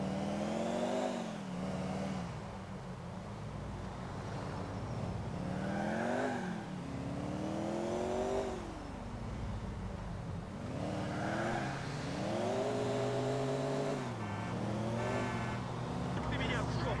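A van's engine roars and revs continuously while driving in GTA IV, pitch rising and falling with each acceleration, loud and close throughout, with speech over it.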